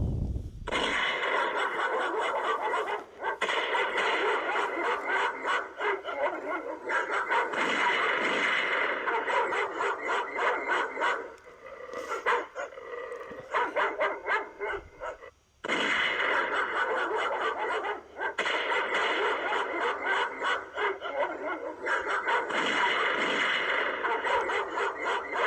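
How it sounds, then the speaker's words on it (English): A garden deer alarm blares loud recorded dog barking mixed with gunshot bursts, continuous and harsh for most of the stretch with a few brief pauses between loud bursts. "that's one of our deer alarms"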